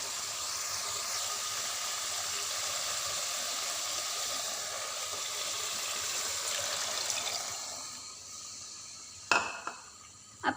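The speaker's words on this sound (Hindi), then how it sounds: "जिस पानी में मैंने गोश्त को बॉयल किया है, यही वाला पानी वो ही मैं इसमें डालूँगी।" Beef boiling water is poured into a pot for yakhni pulao rice, a steady close rushing pour lasting about eight seconds before tapering off, followed by a few sharp knocks against the pot.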